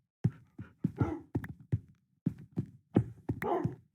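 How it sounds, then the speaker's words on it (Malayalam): Short dog barks in the Minecraft video game come in a string of clipped yelps, several spaced bursts over a few seconds, close and fairly loud with no talking over them. "അതാ പട്ടിക്കുട്ടികളെ കണ്ടു."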